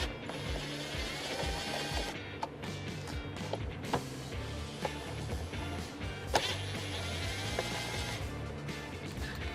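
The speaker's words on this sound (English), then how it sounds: "You remove those with the same T15 Torx bit." A T15 Torx bit backs out the mirror motor screws on a 2019-2025 Silverado or Sierra tow mirror, making quick, uneven ratcheting clicks and small mechanical taps close by, with no talking.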